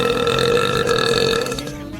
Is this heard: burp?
yes